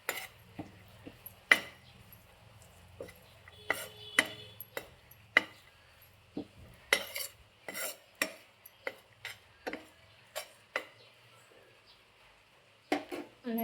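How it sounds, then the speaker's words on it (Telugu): Crushed dry fruits are fried in a pan for ragi laddu, and a spoon stirring them makes scattered light clinks and scrapes against the metal in a quiet setting. "ఇలా పచ్చగా దంచిన డ్రై ఫ్రూట్స్ దీంట్లో వేసి ప్యాన్లో వేసి ఫ్రై చేసుకోవాలి"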